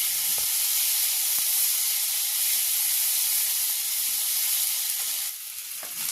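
Ginger paste and turmeric stirred in hot oil for a radish paratha filling make a continuous bright sizzle close up, with a few light scrapes of a spoon; the frying quietens slightly near the end.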